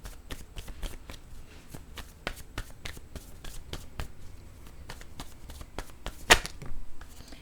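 Oracle word cards being shuffled by hand, a steady run of quick papery riffles and flicks in a quiet room, with one sharper snap near the end.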